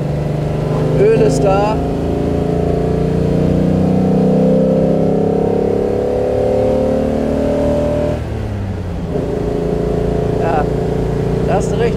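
A 1957 Mercedes 300 SL Roadster running along a straight, its engine droning loudly and steadily from inside the car while someone talks over it.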